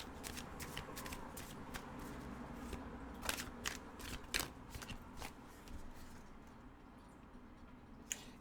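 Tarot cards being shuffled by hand, a steady rustling riffle of close, quiet card flicks with a few sharper snaps standing out, continuing for the whole stretch without talk.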